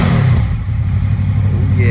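A used 2007 Honda Interceptor VFR800 V4 motorcycle engine runs loud and close, a steady low rumbling drone throughout the short stretch.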